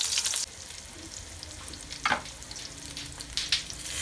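Eggplant slices fry in a small amount of oil in a pan, giving a quiet, steady sizzle with occasional louder crackles and stirring scrapes.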